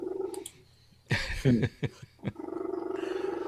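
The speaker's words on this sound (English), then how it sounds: "You just have to be near me, and he starts purring like that." An old cat purrs loudly and close up in a steady pulsing rhythm, broken in the middle by a short burst of louder rustling and vocal noise before the purr resumes.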